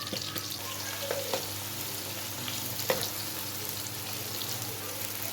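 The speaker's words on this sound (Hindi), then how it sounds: "मसाले फ्राई हो गए, तो अब डाल देंगे प्याज" Onions sizzle in oil after frying spices, with a constant hiss broken by a few light clinks of a spoon, close and fairly soft, with no speech.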